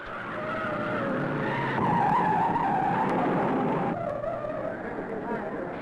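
A race car skids out of the north turn into the home stretch, tail first, at the 1955 Indianapolis 500: a sustained, loud, broad screech and engine roar that swells in the middle, with a voice talking over it.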